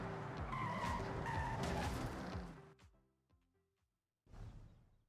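A car's tires skid loudly under a handbrake turn in Forza Horizon 6, a sustained squealing slide with engine roar that lasts over two seconds, then cuts off abruptly, followed by a brief silence and a short burst of engine noise.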